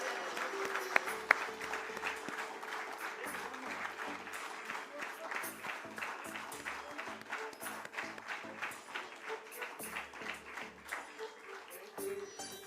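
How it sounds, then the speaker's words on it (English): An audience at a company stock-listing ceremony claps in a long, rhythmic round of applause, moderately faint, while a voice speaks over it. "one more round of applause, everyone"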